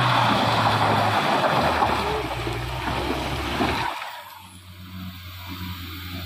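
A Mitsubishi Pajero Sport rolls along a wet, slippery uphill road, with steady tire hiss and splashing water that drop off sharply partway through, leaving a lower engine rumble.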